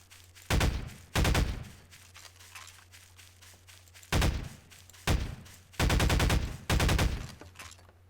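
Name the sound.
vase launcher firing in Garry's Mod video game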